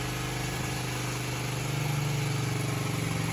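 A small 1988 Honda Z50 mini motorcycle engine idles after a kick start, a steady low putter with a fast, even pulse that swells slightly toward the end.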